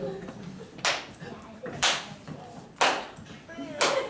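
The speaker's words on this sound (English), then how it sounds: "Oh, a clap of sarcasm." Four slow, deliberately spaced claps ring out one by one, each a sharp isolated smack, with faint talk and stage murmur between them in a small theater during an improvised Dungeons & Dragons show.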